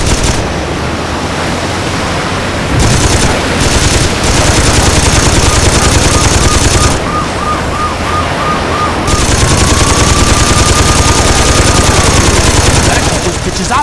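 Sustained machine gun fire in Saints Row 2, loud and continuous rattling bursts with brief gaps, heavy mixed noise throughout and voices shouting over it.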